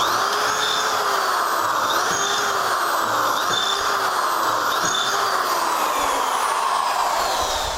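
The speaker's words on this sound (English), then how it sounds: "I've drilled all these holes previously, but I'm going to re-drill them" A steady, loud whirring drone of a power drill re-drilling holes in wood for dowels, with faint repeated pitch swoops as it works.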